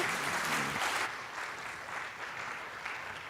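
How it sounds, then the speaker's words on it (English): Steady applause from a crowd, many hands clapping together at an even, sustained level throughout. "Everybody give a big round of applause one more time for Steve."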